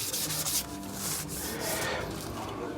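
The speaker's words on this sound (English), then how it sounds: "I go back with the 320 sandpaper. So basically I level everything," Someone sands a wooden surface by hand with 320-grit sandpaper to level a pore-filler coat, producing steady close scratchy rubbing strokes without pause.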